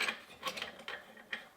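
Parts of an old household lamp being twisted and unscrewed, faint close-up scraping, creaking and ratcheting rubs in a few short bursts.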